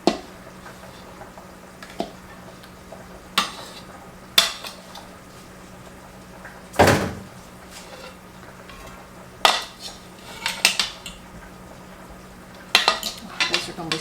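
Knife slicing new potatoes in two on a board in a home kitchen, a string of sharp separate cuts and knocks spread irregularly, some louder than others, over a low steady hum.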